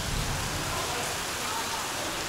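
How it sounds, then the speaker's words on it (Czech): A heavy cloudburst during a mountain thunderstorm in the Chinese countryside pours down as a loud, steady roar of rain, filling the whole stretch without a break. "No a už je to tady, hele, přišla bouřka, průtrž mračen."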